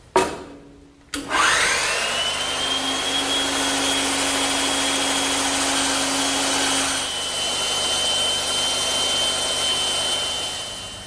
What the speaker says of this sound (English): So I'm just going to take my time back at the bandsaw.